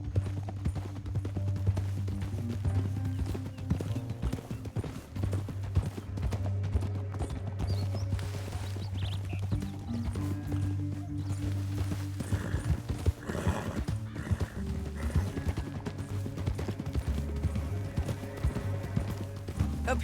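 Several horses in the video game Red Dead Redemption 2 gallop with a steady clip-clop of hooves, and a horse neighs over the rhythmic pounding.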